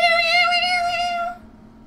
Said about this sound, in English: He's such a whiny cat.